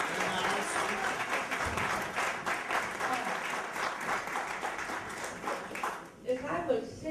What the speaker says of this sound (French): Et je vous demande d'acclamer la servante de Dieu.